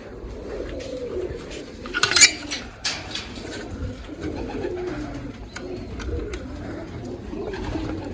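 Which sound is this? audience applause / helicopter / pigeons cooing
pigeons cooing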